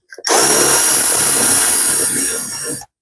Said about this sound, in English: I might have to drill that out a little bit more.